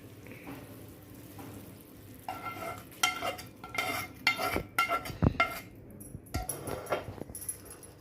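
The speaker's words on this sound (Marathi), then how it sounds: "आणि हे व्यवस्थित मिक्स करून घ्यायचं आहे लगेच" Spoon scraping and clinking in a pan while stirring a hot jaggery and dink ladoo mixture, with irregular metallic scrapes and knocks growing busier, close up and with no talk.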